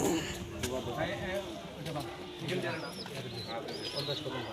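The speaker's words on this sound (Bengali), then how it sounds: "কবুতরের বাচ্চা দেখাই," Pigeons coo in soft, rolling calls at a busy market in Nagarpur, Tangail, where live ducks, chickens and pigeons are sold, mixed with other bird chirps while people talk nearby.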